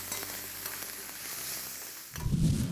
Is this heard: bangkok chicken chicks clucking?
no